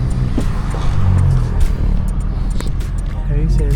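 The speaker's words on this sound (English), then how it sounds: "one of my dream cars, the ZL1. Baby, it's pulling up." A Chevrolet Camaro ZL1 pulls up at a car meet, its engine giving a loud, close, low rumble that holds steady for a few seconds and then swells slightly.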